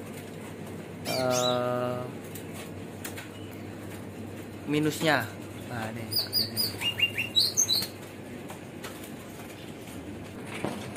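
Caged songbirds for sale chirp in short bursts with brief wing flapping, close by, while someone talks over them in Indonesian.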